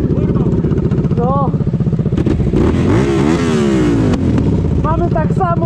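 A motorcycle engine with its exhaust removed runs loud and close, a rough, rapid-firing idle that climbs into harsh revs and falls back, while someone talks over it.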